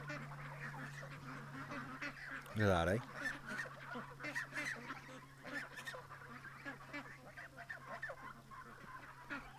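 Ducks near a pen give a loud honking quack nearby, with faint fowl calls and someone speaking briefly over steady outdoor background noise.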